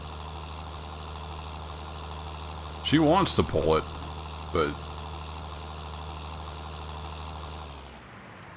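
A tractor engine idles steadily in Farming Simulator 19, a low constant drone that runs throughout, with a brief burst of speech over it near the middle, then cuts out near the end.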